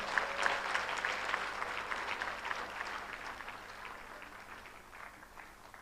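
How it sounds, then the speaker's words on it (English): Audience applause at a Kenyan political speaking event, a steady wash of many hands clapping at moderate distance with a few sharper claps up front, holding level and easing slightly toward the end. "Deserve a better round of applause."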